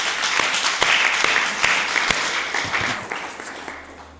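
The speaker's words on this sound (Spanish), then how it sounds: "Den un aplauso a Cristo" A church congregation breaks into sustained applause during a sermon, a dense wash of many hands with a few sharper individual claps standing out before it gradually thins toward the end.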